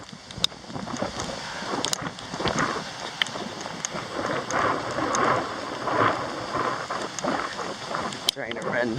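Thunderstorm rain beginning to fall in Corpus Christi, Texas, a steady hiss of rain on surfaces with scattered sharp drop impacts and a low rumble beneath, heard close by with no talk.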